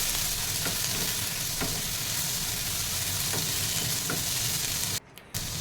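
Tomato, green chili, ginger and garlic sauté in a pan, giving a loud, dense, continuous sizzle with faint scraping strokes, cutting out abruptly near the end.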